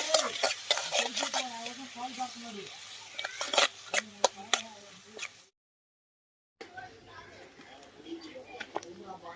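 Curry leaves, chili powder, salt and turmeric sizzle in hot oil while being stirred for pakodi curry, with scraping clinks of a spoon against the pan and a voice talking over the steady frying before a brief silence.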